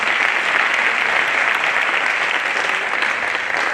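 A slam poetry audience in Brazzaville applauds in a loud, dense, unbroken burst that stays even from start to finish, with no voices rising above it.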